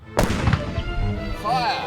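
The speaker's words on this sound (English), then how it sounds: "You let the safety catch off and fire." A Scorpion light tank fires a shell from its gun, a single loud, sharp blast followed by a rumbling decay, with a voice speaking afterward.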